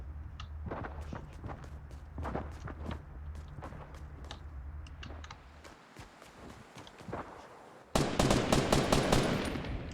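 Video game gunfire, a rapid string of sharp shots with a steadier burst pattern early on, then a brief lull before a louder, denser volley of shots near the end.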